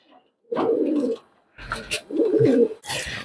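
Two bursts of low, throaty cooing from native high-flying pigeons, each about half a second long, close and clear with short pauses and soft rustles between them.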